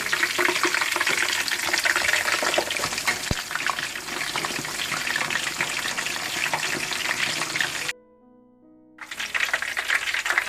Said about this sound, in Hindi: देखिए बहुत अच्छी तरह से ये फ्राई हो चुका है